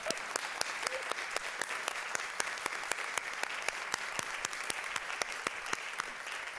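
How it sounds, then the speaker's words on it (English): An audience at a school board meeting gives a round of applause, a fairly faint and steady patter of many hands clapping with a few sharp, distinct claps standing out throughout. "can we just give them a big round of applause,"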